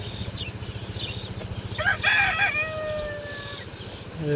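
Chickens being fed cluck in a low, rhythmic patter until a rooster lets out a clear, drawn-out crow close by midway through.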